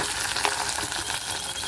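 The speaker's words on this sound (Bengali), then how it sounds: "এখানে দিয়ে দিলাম তেজপাতা, গোটা গরম মশলা, পেঁয়াজ কুচিটা দিয়ে দেবো" Bay leaf, whole garam masala and chopped onion frying in a pan, a steady crackling sizzle with light stirring, close and continuous with no talk.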